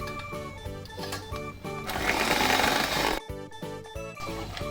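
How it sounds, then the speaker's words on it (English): Electric hand beater whisking cream in a bowl set over ice until soft peaks form, with a rhythmic mechanical whir that pulses, swells louder for about a second, then cuts briefly before resuming. "with my beater, I'll just whisk everything"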